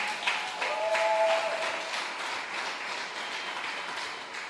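A church congregation applauding, a dense sustained wash of clapping from many hands that swells early and then holds steady throughout.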